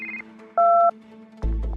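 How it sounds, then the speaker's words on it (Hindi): A short electronic phone tone sounds once, a steady two-pitch beep, with a low hum before it and a louder rumble entering at the end. "तभी आलिया को मेहुल का कॉल आता है।"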